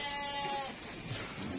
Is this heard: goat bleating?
yes